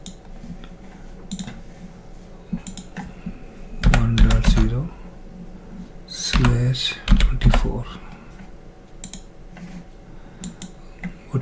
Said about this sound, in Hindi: वो टाइपिंग मेरा ख्याल है.